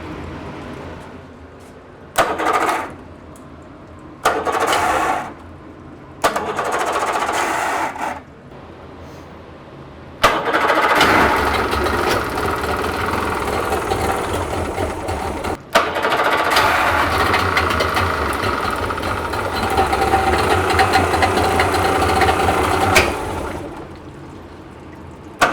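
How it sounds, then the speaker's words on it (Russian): Yamaha 70B outboard motor with electrical sparking under the flywheel, cranking in several short bursts, then catching and running roughly and loudly with uneven, faltering revs before cutting out. "мотор все равно работает плохо"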